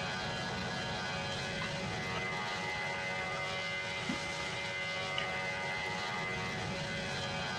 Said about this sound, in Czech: Já to tady s tímhle tím letadlem rozjedem.